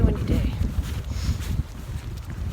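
Gusty wind on a snowy outdoor trail buffets the microphone with a continuous low, rough roar that rises and falls throughout.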